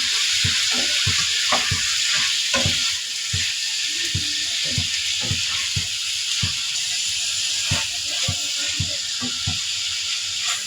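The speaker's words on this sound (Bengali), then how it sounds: "তরকারিটা কষানো হয়েছে" Eggplant and potato curry fries in a spiced masala, a loud, close, constant sizzle punctuated by regular knocks and scrapes of a spatula stirring the pan.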